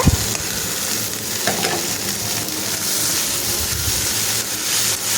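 Soaked red rice poha being stirred into a frying tempering, a steady bright sizzle with a knock at the start and soft scraping strokes of a spatula in the pan, close and continuous, without speech.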